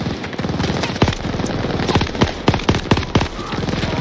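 Rapid bursts of machine gun fire in the Call of Duty Vanguard game, about ten sharp loud shots in uneven volleys with explosive impacts, close and dominant over a busy battle background.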